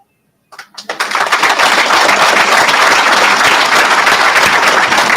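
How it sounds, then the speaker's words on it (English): A graduation ceremony crowd bursts into loud, dense applause for a speaker. The clapping builds quickly from silence and then holds steady and close for several seconds with no talking. "Can we give Josh Smith another gigantic round of applause?"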